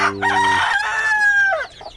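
A rooster crows loudly and close by, a drawn-out cry that trails off, with hens clucking around it.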